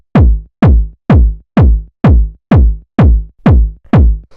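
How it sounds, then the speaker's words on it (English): A processed house-track kick drum repeats eight times at an even pace, each hit punchy and loud with a deep booming tail, heard alone. "After that, we have the kick, which sounds like this."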